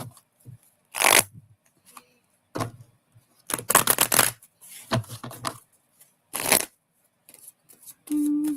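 Cards are shuffled in several short, crisp riffling bursts separated by pauses, close up, with a brief low hum at the end.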